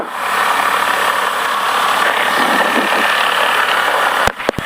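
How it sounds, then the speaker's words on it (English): Twin engines of a Diamond DA42 light aircraft idling on the ground while warming up before a run-up, a loud, steady droning hum heard from inside, ending with a few brief knocks. "Now we're just waiting for the engines to warm up so we can do our run-up."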